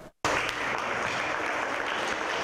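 Applause at a community unity and solidarity gathering for Israel at Chabad UF, bursting in after a brief silence and continuing as a dense, even wash of many hands clapping.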